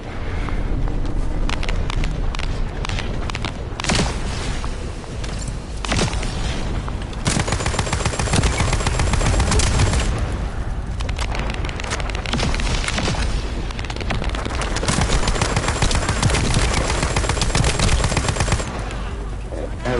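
Rapid automatic gunfire from an Ultimate Lepic weapon in The First Descendant, sustained bursts firing nearly continuously and loud throughout, with booming impacts mixed in.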